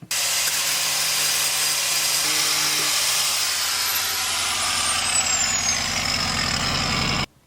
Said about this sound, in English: I found the 2 screws that are here very sharp. They can become an hazard, so I'm just gonna be trimming them off